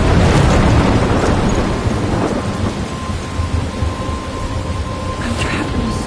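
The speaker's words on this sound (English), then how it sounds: "I'm trapped in a storm?" Thunderstorm from the video game Life Is Strange Remastered: steady heavy rain and wind with a loud rolling thunder rumble at the start, fading into a continuous storm wash throughout.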